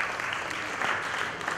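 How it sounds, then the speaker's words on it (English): A conference audience at a media and marketing event breaks into a short burst of dense, steady clapping for a speaker. "Please put your hands together for Mr."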